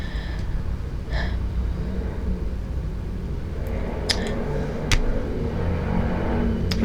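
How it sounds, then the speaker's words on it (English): Steady low rumble of a vehicle passing outside, muffled and moderately loud throughout, with a few faint clicks and no talking. "sorry about that noisy vehicle outside"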